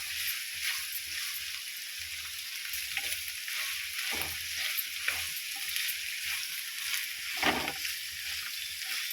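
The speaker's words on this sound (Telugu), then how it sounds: "ఈ విధంగా మంచిగా ఫ్రై చేసుకోవాలి" Steady crackling sizzle of ivy gourd frying in a hot pan, continuous throughout, with occasional scraping stirs.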